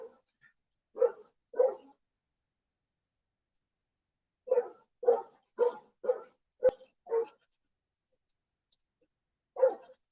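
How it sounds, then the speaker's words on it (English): A dog barks in short bursts: two barks, a pause, then a rapid run of about six barks, and one more bark near the end, fairly close and alone with no talk. "Can you guys hear my dog?"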